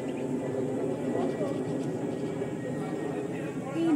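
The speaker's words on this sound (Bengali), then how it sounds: "মন্দিরের ওপর দিয়ে প্লেন উড়ে যাচ্ছে।" A large airplane passes over a temple in Hyderabad, a steady broad rumble from above with faint voices murmuring underneath.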